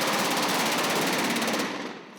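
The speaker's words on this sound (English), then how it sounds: "Today we're shooting a sequence where the sailors are having to shoot at something in the swamp." Rapid blank gunfire from sailors shooting into a swamp on a film set, a loud continuous rattling burst that fills the scene before trailing off near the end.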